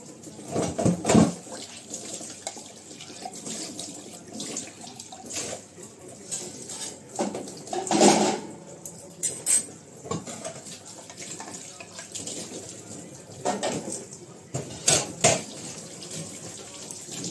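Hot tap water running into a kitchen sink while dishes are washed, with a steady stream broken by several louder splashes and clatters of bowls, close by and without talk.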